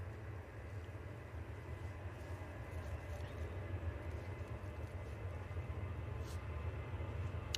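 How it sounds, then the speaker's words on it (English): A KLM Boeing 737 on its takeoff roll, heard as a steady, faint, distant engine roar that slowly builds over several seconds, with no voices. "KLM 737 now on the roll."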